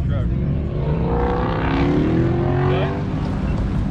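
A car does a burnout at a Mustang week event: a continuous loud roar of engine and spinning tyres with rising revs, heard from nearby amid crowd noise.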